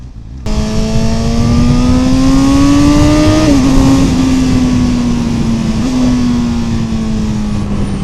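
Honda CB1000 Hornet SP motorcycle engine revving up loud and close, its pitch climbing steadily for a few seconds, then dipping and settling into a high, sustained roar with no voices.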